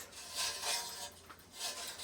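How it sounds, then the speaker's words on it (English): Close, scraping rasps from the chuck of a Milwaukee M18 cordless drill being hand-tightened onto an ice auger, in a few uneven bursts outdoors on a frozen lake. "Just gonna fasten it on there, tighten that chuck right up tightly."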